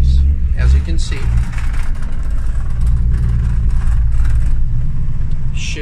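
A 1961 Willys Jeep Wagon 4x4 engine rumbles loud and steady as it pulls away in first gear, a low continuous drone close to the microphone, with someone talking over it.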